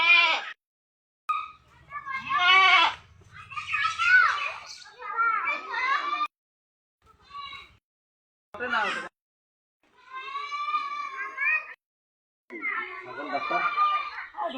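Goat bleating a few times in short wavering calls, interleaved with children's chatter and voices nearby.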